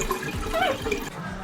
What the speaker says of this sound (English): which is to drain all the water out